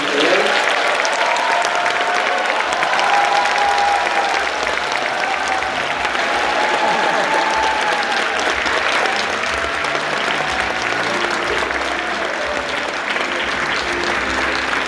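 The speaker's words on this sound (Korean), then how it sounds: "다시 한번 힘찬 박수와 함께" Sustained audience applause fills a lecture hall as a writer and lecturer is welcomed to the stage, a dense, steady roar of clapping that holds loudly throughout with no pauses.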